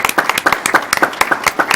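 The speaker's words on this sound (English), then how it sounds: "let's still give them a round of applause" A small group in a boardroom meeting claps for teachers and principals, the individual hand claps distinct and rhythmic, loud and close.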